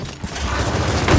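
Weapon reloading in Gears of War 4 during a competitive 2v2 match on the Foundation map, heard as a dense run of mechanical clicks and clatter with a brief thump near the start, loud and close amid game noise.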